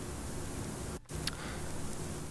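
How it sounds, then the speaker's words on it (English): Steady vinyl-style white noise hisses evenly across the full range at low level, broken by one brief dropout and a faint crackle, with no voices. "I'll do like a little vinyl noise"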